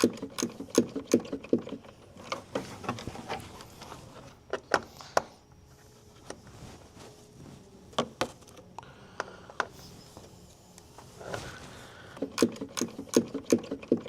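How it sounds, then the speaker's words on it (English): Quarter-drive ratchet and socket working fasteners on a Harley-Davidson motorcycle: rapid clicking ratchet bursts, close and repeated in uneven runs with brief pauses, no talking. "just a quarter drive ratchet and socket"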